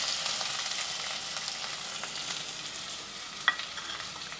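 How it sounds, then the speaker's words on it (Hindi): Three medium onions, finely chopped, fry in hot oil in a cooker with a steady close hiss and crackle, a faint stir and one small sharp pop near the end. "प्याज को हमें हल्का सा सुनहरी होने तक फ्राई करना है।"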